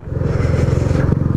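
A Honda Biz 125 motorcycle fitted with an aluminium exhaust revs hard and close, its loud, throbbing engine note pulsing steadily throughout with no talk over it.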